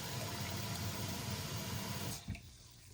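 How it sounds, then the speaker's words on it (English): Water pours steadily from a tap into a container of tomato seeds, a close, continuous rushing splash that stops abruptly near the end, followed by a brief slosh as the seeds are mixed. "We'll just add some more water. Mix them up again."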